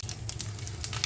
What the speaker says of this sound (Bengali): আদাটা মোটামুটি ভাজা হয়ে গেছে